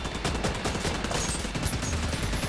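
Rapid automatic fire from a gun turret in The Division 2 rattles without a break, dense and loud, with faint gunfire layered under it.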